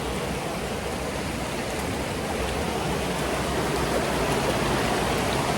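A small slide waterfall pours into a pool in Colombia, a dense, constant broadband rush of falling water, loud and close with no other sounds.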